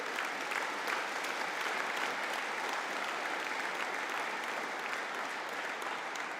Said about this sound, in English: And could we have a collective round of applause for the Postgraduate Diploma in Arts in Financial Management?